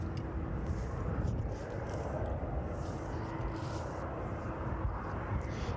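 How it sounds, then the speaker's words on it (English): A Boeing 757 arriving from Reykjavik at East Midlands Airport, its jet engines a broad low rumble and roar, steady and moderately distant throughout. "We're next to arriving will be that 757 in from Reykjavik."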